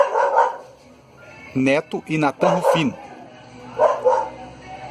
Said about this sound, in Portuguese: tem um cachorro que está querendo atrapalhar agora